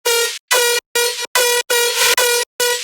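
A crunchy metallic synth bass lead plays a drop riff of seven loud, harmonically dense stabs with short gaps between them, and it is heard alone.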